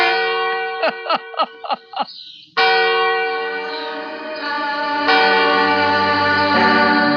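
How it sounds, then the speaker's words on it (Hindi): A few short struck tones ring out, then a loud bell peals with a long, resonant sustain that swells again as further strikes layer in. "बज गई ना घंटी।"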